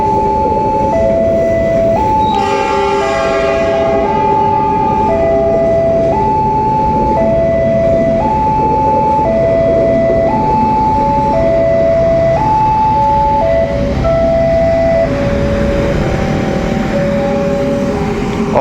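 The KA Malabar passenger train pulls into a station in Indonesia, a loud continuous rumble under a steadily repeating two-tone alternating signal that runs from start to finish.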